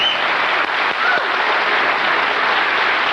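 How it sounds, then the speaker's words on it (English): Studio audience applause for Tommy Newsom, a dense, even wash of clapping that holds steady and loud for the whole stretch. "you can applaud for Tommy"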